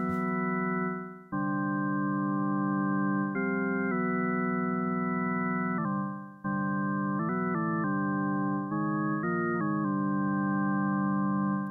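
Sustained synth drone from an Arturia MicroFreak in a clean tone, steady and close, with held notes that change pitch every few seconds, including a brief quick run, and no talking.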